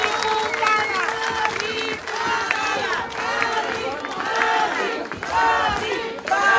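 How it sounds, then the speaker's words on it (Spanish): Large crowd clapping and cheering loudly with whoops and shouts at a political campaign rally in Tecámac, Mexico, sustained throughout at close range. "Excelente, fuerte el aplauso."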